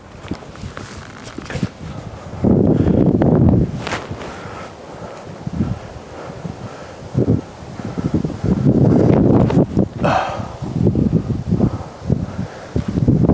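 Gusty winter wind buffets the microphone on a disc golf course, loud rumbling blasts rising and falling in bursts over a steady outdoor hiss, with faint rustling between gusts.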